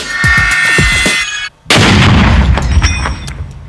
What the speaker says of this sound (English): there was a huge release of energy in those explosions